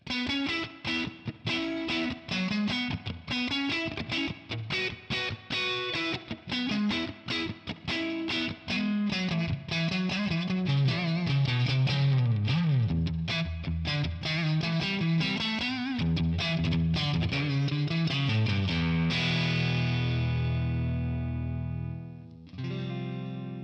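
Electric guitar through a Tonex One boutique amp model with reverb added plays a long run of picked notes and chords, loud and solo, ending on a held chord that decays into a reverb tail.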